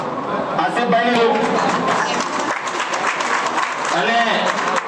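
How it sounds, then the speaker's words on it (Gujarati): A room of Aam Aadmi Party workers gives a round of applause, with steady clapping running throughout while someone speaks over it and people chatter nearby. "બધાને તાળીઓથી આપણે સ્વાગતને વધાવી લઈશું"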